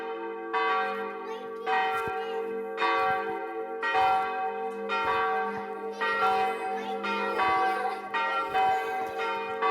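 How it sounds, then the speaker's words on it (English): A large bell tolls repeatedly in a steady rhythm, each deep, resonant strike ringing out and overlapping the long hum of the previous one. "The rope rang the big bell right under Mrs. Bird's nest."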